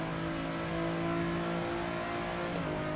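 Steady car engine drone from the Assetto Corsa racing video game, a constant loud hum at steady revs with a slight pitch dip near the end, no talking.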